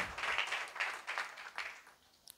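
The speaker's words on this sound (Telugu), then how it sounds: "ఒక క్లాప్ కొట్టేసి దేవునికి మనం అందరూ గణపరుస్తాము" A church congregation at Sunday worship claps together in a burst of applause that swells and then fades into quiet, ending with a couple of isolated claps.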